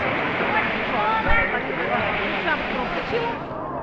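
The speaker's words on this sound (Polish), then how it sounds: "Są bardzo przyjemne fale." Waves washing onto a pebble and fine-gravel beach at Pasjača near Dubrovnik, Croatia, a continuous broad surf rush with gentle surges, close and steady, with some wind noise.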